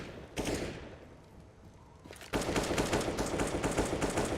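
Gunfire in a Counter-Strike match between LDLC and Euronics, with a single loud shot, a brief lull, then sustained rapid automatic bursts from rifles and a CZ pistol.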